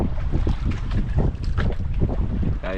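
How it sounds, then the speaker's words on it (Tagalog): Wind gusting loudly across an outdoor microphone near a boat on open water, a steady rumbling buffet with rustling bursts throughout. "Tunog yung hangin mga idol."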